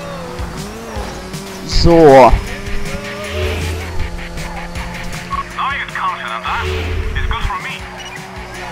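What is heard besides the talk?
car engine and tire squeal in Midnight Club Los Angeles video game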